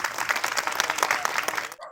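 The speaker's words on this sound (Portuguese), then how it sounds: "Nosso colega Evandro, e palmas para ele e demais colegas" Colleagues and hospital health workers break into dense, lively group applause with sharp individual claps in the mix, continuing steadily for nearly two seconds before cutting off abruptly.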